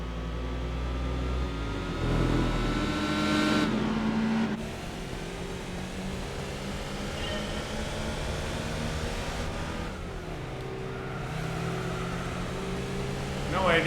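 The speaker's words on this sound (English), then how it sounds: "Man, that's actually a Nissan Skyline." A Nissan Skyline races in Gran Turismo 4, its engine droning and shifting pitch as it revs and changes gears, steady and moderately loud throughout with a few abrupt drops in tone.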